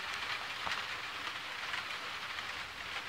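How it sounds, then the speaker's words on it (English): Torrential rain from a thunderstorm in Crestline, California pours down in a steady, dense hiss, a heavy continuous downpour with no voices heard. "This is torrential downpour now."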